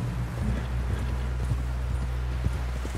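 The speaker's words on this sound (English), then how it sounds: "Someone help John down off this horse." Horse hooves clip-clop steadily in the Red Dead Redemption video game, a fast, even rhythm of close, prominent hoofbeats carried over a continuous low rumble of game ambience.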